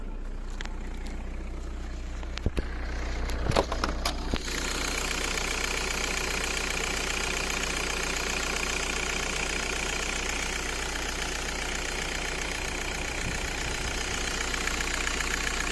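A 2001 Volkswagen Bora with a 1.9 TDI diesel engine idles steadily at close range, its even knocking clatter running unbroken, with a few sharp clicks near the start.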